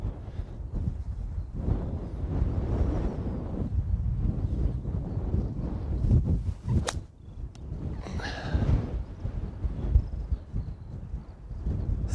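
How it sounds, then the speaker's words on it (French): Strong wind buffets the microphone on an outdoor golf course, a continuous low roaring gust that swells and dips, loud and close, with no talk. "Oh le vent."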